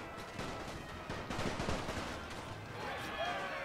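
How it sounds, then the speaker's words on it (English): Rapid machine gun fire from the Great War Mod of Napoleon: Total War, a dense, continuous rattle of overlapping shots that holds steady for several seconds at moderate loudness. "New Zealand troops have attacked my machine guns!"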